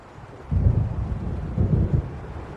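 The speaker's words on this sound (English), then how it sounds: "It seems there's a storm coming." Storm rolling in over dark lake waters in the video game Alan Wake Remastered, deep rumbling thunder swelling in two low surges over a steady windy, rainy background, no speech.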